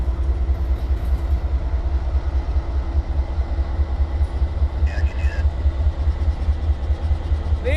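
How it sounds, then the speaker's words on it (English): Two locomotives roll through the DeButts rail yard, a steady low diesel rumble and rolling drone holding constant, with a faint brief squeal partway through and people talking over it. "These are our two locomotives that we saw go back in earlier"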